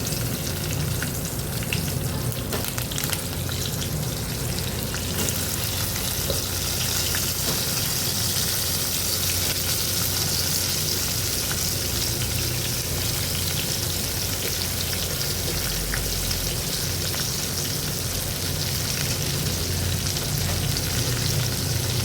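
Stuffed brinjals fry in hot oil with curry leaves and turmeric, a loud, dense, steady crackling sizzle that continues unbroken and close throughout.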